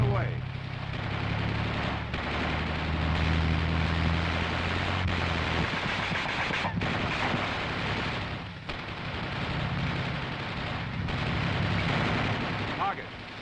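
An M551 Sheridan armored reconnaissance assault vehicle fires its guns in a continuous, loud run of gunfire with heavy rumbling booms, while a crew member calls out commands over the shooting.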